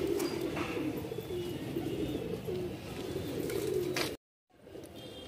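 Madrasi pigeons in Jabalpur coo in low, soft repeated calls close by over a steady murmur, breaking off abruptly near the end before faint background sound returns.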